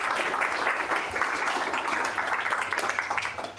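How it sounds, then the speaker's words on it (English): An audience at a Kotlin and Android developer meetup in Budapest claps for the roundtable speakers, a dense, continuous patter of many hands that holds steady and eases off slightly at the end. "please, gents, please applause for our speakers."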